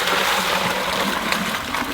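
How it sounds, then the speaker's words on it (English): A continuous, steady pour of liquid iron and humic acid streams from a bucket into a lawn sprayer, splashing close by with no pauses. "It's easiest to pour into this small hole when you got about 2 gallons of liquid in your bucket"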